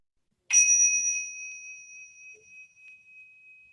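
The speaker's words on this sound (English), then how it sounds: "We'll use the bell to focus, and we'll start with just allowing the sound to carry us" A meditation bell is struck once in a quiet meditation session; its clear, high ringing tone sustains and slowly fades alone.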